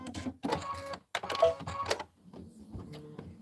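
A Kimberbell embroidery machine stitches out Valentine designs, whirring and clattering in bursts broken by brief pauses, then settling into a quieter, steady hum.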